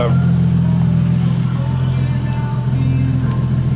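A Nissan Skyline R33 GTST engine idling close by in a garage, a loud steady low rumble with a faint rise in pitch near the end, running continuously without pauses.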